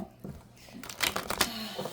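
Tarot cards are shuffled in the hands, a soft riffle that builds into a brisk run of papery flutters in the second half, close and fairly quiet with no talk.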